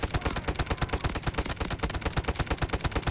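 Continuous rapid automatic gunfire in the Delta Force Mobile shooter, a dense, punchy, evenly spaced stream of close, loud shots that keeps going through the whole stretch with no pauses.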